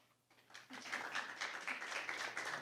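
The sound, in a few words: audience applause after a debate rebuttal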